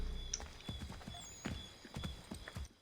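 Horse hooves clip-clop at a steady trotting rhythm in the video game Assassin's Creed 3, quiet and close, with no talk over them.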